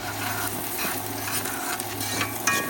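Food fries down in a pan over a camp stove for chilli garlic noodles, a close, steady sizzle with light scraping stirs and a small clink near the end, no voices.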